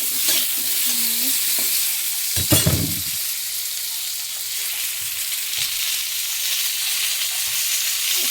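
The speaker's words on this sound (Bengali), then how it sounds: "কড়াইতে তেল দিয়ে দিয়েছি, শুকনো লঙ্কা আর সর্ষে ফোড়ন।" Dried red chillies and mustard seeds temper in hot oil in a wok, making a loud, close, continuous hiss and crackle, with a brief burst of stirring and spluttering near the start and no talking.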